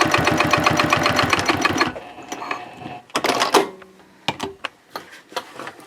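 A sewing machine bastes Cordura fabric for a trifold wallet at a 3.0 stitch length, whirring steadily for about two seconds, then stopping, followed by scattered clicks and handling knocks.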